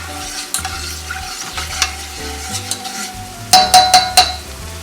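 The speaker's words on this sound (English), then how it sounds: "the reason I'm mixing with the honey spoon is to get the honey off the spoon" Sloppy joe mixture stirred in a sizzling pan with a honey spoon, a soft steady fry under scattered stirring scrapes, ending with a quick burst of metallic clinks and knocks, close, no voices.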